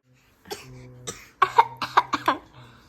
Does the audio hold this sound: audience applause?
no